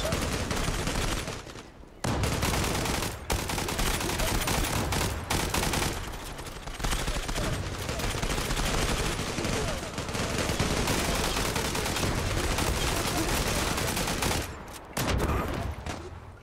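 Video game gunfire, dense and loud rapid automatic bursts that go on almost without a break, with short gaps, close and dominant.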